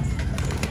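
A pigeon cooing in short low pulses, close by and over a steady background hum.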